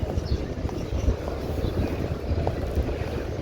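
Strong cool wind blowing outdoors in front of the green dome at Masjid an-Nabawi, a steady rushing buffet of gusts across the microphone, continuous and fairly loud with no voices.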